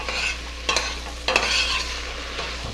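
Onions and chilies sizzle steadily in a pan, with two or three distinct scraping stirs across the bottom cutting through the frying hiss.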